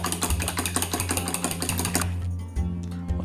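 Four eggs being whisked in a bowl, a fast steady clicking rhythm of the whisk close up over a low background hum.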